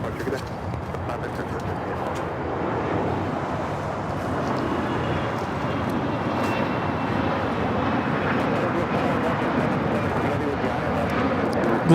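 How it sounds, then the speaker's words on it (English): A Bombardier Global 6000 business jet taking off at LAX, a broad, steady engine roar that slowly builds in strength, with a voice talking over it. "Global 6000 taking off."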